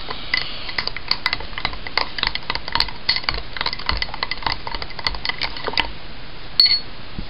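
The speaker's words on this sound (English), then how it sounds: "And stir it all up." Bread yeast, sugar and warm water are stirred in a container for a corn mash, giving a brisk, rhythmic run of close scraping clinks for several seconds.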